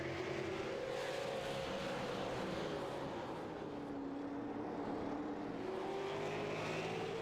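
Race cars lapping the Southern National track during an All Star Clash night race, a steady distant engine drone with slowly shifting pitch as cars circle, no voices over it.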